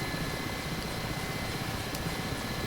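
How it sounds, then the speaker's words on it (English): Mi-8 helicopter flying in the DCS World flight simulator, a dense, steady broadband rotor and turbine roar that stays even and continuous throughout with no voices. "since we are flying helicopters and not jets"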